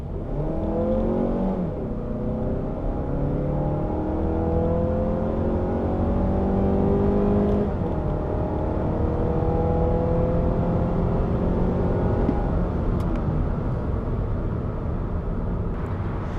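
The engine and dual exhaust of a 2018 Mazda 3 s Grand Touring compact car accelerate hard, with rising revs through several gear changes. The sound is loud and continuous, and no one speaks over it.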